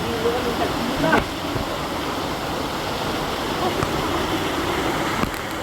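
A Philippine waterfall roars as a steady, broadband rush of falling water, continuous and fairly close throughout, with brief voices and small rustles over it.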